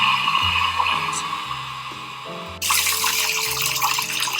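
Hot tap water runs steadily onto a copper printing plate during a sugar lift etching step, a continuous splashing hiss that swells louder partway through, with low clunks underneath.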